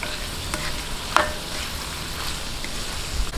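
Shrimp goes into a pan of seafood paella with a steady, close, broadband sizzle throughout, plus a few light utensil taps and one brief clink of stirring near the middle.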